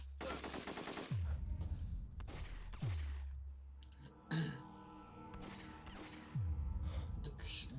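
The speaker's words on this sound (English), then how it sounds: "That gun sounds like, I don't know, so weak. You, pew, pew, pew." Gunfire in the video game The Getaway, short bursts of rapid shots separated by quiet gaps, each burst ending in a falling boom, fairly faint with mechanical clicks and clatter between.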